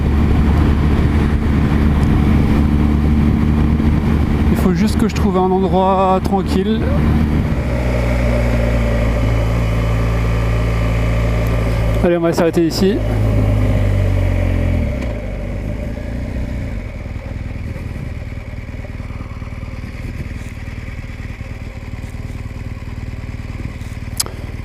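BMW R 1200 GS motorcycle engine running steadily close by during a ride, then easing down as the bike slows to a stop, with someone talking briefly over it.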